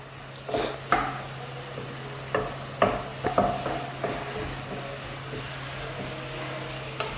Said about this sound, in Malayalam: നല്ല ബ്രൗൺ കളർ ആകുന്നത് വരെ ഇളക്കി കൊടുക്കണം അല്ലെങ്കിൽ കരിഞ്ഞു പോകും